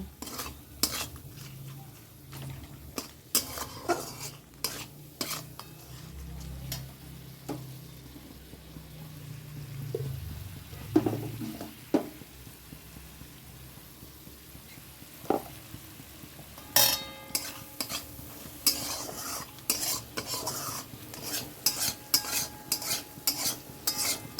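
Ground cumin, coriander and chili powder being sautéed in a pan for a rohu fish curry: a spoon scrapes and stirs against the metal in irregular clinks over a soft, steady sizzle, with no voices.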